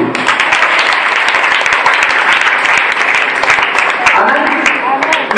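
A church congregation applauds during a service, a dense, steady wash of many hands clapping for the whole stretch, loud and continuous, with voices mixed in underneath.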